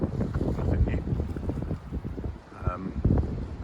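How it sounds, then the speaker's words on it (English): Gusty wind buffeting the microphone outdoors by the River Tyne, a low rumbling roar that rises and falls steadily. "It's a bit windy, as you can see, and hear, I'm sure."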